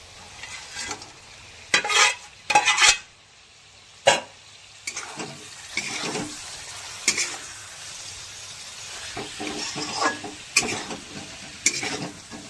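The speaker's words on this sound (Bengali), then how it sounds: "এবার মাছগুলো আমি এর মধ্যে দিয়ে দেবো" Fish pieces going into hot oil with slit green chillies, giving intermittent sizzling and frying crackle with occasional stirring scrapes and sharper bursts, close and moderately loud, no talk.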